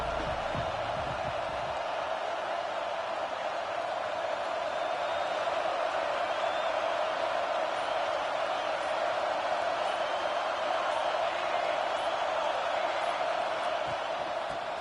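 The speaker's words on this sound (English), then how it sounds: "This crowd trying to show them what it's going to be like all day in this house." Dense, roaring stadium crowd noise at a Utah versus Ole Miss college football game, a constant loud wash of cheering and shouting that holds steady throughout.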